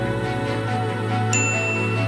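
A notification bell sound effect gives one bright ding that rings out and lingers over a steady low hum of background music.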